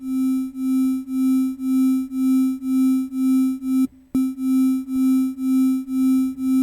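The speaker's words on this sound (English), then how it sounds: "you're modulating the amplitude with a sine wave" In Ableton Live, a steady tone swells and fades once per second under a 1 Hz sine LFO amplitude modulation, giving a regular pulsing throb with a brief dropout partway through.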